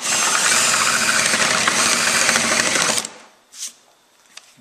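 A large countersink-style cutter bores a hole in wood for a game table, a loud, steady, high-pitched whirring grind for about three seconds that stops abruptly, followed by a couple of faint knocks.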